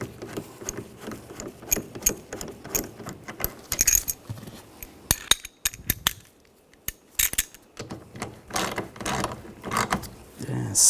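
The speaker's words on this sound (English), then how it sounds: "And tighten the bolt down." A ratchet tightens a mirror bolt on a Volkswagen Tiguan, giving irregular bursts of sharp metallic clicks and rattles close by, with short pauses between strokes.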